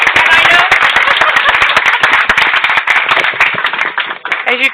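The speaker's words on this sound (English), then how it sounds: "as you can hear the applause here on the live side" A live audience at a strengths-themed Lenten reflection event claps loudly and densely in a close burst that thins out toward the end.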